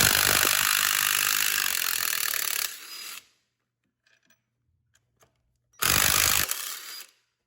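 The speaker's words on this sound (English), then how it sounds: "I would recommend using a heavy duty impact on this one." A heavy-duty impact wrench on 14mm engine mount bolts of a Fiat 500 Abarth gives a loud continuous buzzing burst, stops for a few seconds of near silence with faint clicks, then fires again briefly.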